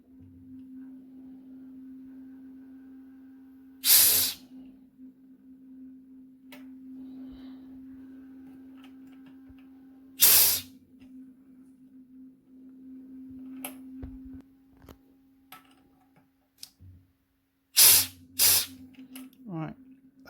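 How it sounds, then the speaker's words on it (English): CO2 vented from a home-brew beer keg on a NEIPA brew day, sharp loud hissing bursts, four or five in all, separated by quiet stretches with a steady low hum underneath. "Turn the PSI on low at the moment. Just vent it a little bit. Get rid of that oxygen."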